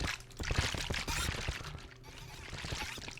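Minecraft brewing stand bubbling as a splash potion of instant harming brews, a broadband liquid pouring and fizzing sound that stays fairly loud and steady throughout, with faint game noises underneath.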